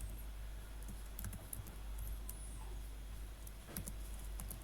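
Typing on a computer keyboard, a quiet run of irregular clicking keystrokes close by, with a few firmer taps standing out and no talk over it.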